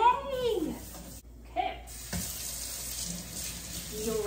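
Water runs from a household faucet into a sink for rinsing, a steady hissing stream under a voice that speaks briefly over it.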